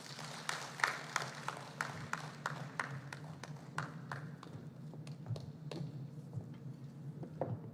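An audience at the launch of a national industrial policy applauds steadily, many hands clapping in a dense, fairly faint patter heard across a hall, with a low hum beneath and no speech.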